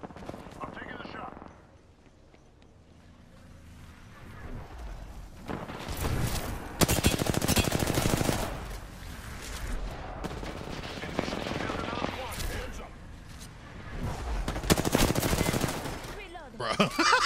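Apex Legends gunfire in a match: dense bursts of rapid automatic fire and heavy shots, loud and sustained with short gaps, while a player's voice talks over the action.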